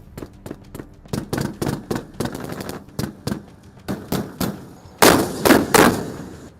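Tank gunfire at 15,500 feet on the India–China LAC by a lakeshore: a rapid series of sharp reports in uneven bursts, ending in three louder, heavier blasts.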